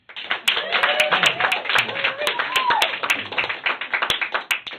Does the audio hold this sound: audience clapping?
yes